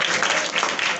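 Loud, dense applause fills a Christmas church service, a steady wash of many hands clapping together for about a second.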